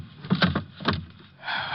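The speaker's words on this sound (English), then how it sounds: "Drop the gun in the drawer." A desk drawer in an old radio detective drama: several knocks and thumps as something heavy drops in, then a wooden slide and bump as the drawer closes, close and fairly loud, followed by faint room noise.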